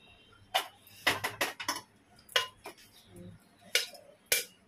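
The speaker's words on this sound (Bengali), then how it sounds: "দেখছো লবঙ্গ ফাটে, বড্ড ফাটে" Whole cloves crackle and pop in hot oil, giving a series of sharp, separate snaps at an uneven pace, some close together and others spread out, with no talking.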